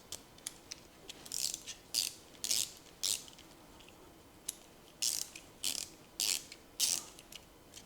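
A ratchet bit driver that takes Leatherman-style flat bits clicks in repeated short, crisp bursts of ratcheting, close and fairly quiet, with brief gaps between strokes and no talking.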